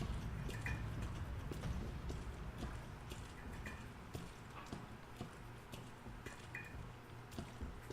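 Stomping boots of an enemy in Resident Evil 2 Remake, a steady run of fairly soft, regular footfalls with a faint wet squish, repeating throughout against a dim, rumbling backdrop.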